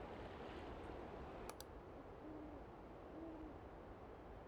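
Owl hooting in the video game I'm On Observation Duty 6: a few soft, separate low hoots over a steady ambient wash of night background, fairly faint and distant.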